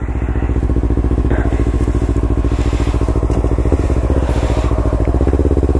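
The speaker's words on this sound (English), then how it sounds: "Kawasaki 300 Ninja, and this body style" A 2016 Kawasaki Ninja 300 motorcycle engine runs close by with a loud, steady, rapid-firing idle throb and faint clatter throughout.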